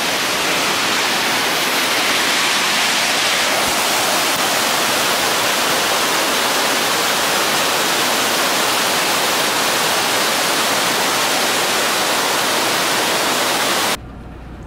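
Hawkins Falls in Virginia gives a constant broadband rush of falling water, loud and unbroken, with no voices, cutting off abruptly near the end.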